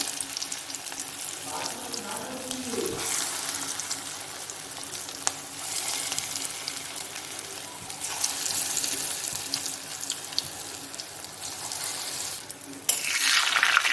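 Small flattened shrimp fritters frying in hot mustard oil in a pan, a steady close sizzle with crackling bursts and occasional utensil scrapes, growing briefly louder near the end, with no one speaking.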